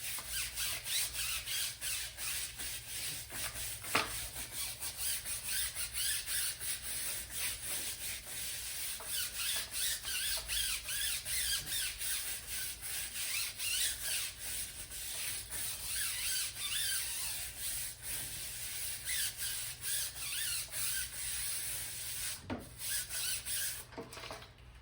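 Old silicone dressing is scrubbed off a tire with a brush, producing a continuous loud bristly rubbing and rasping with quick repeated strokes and occasional knocks throughout.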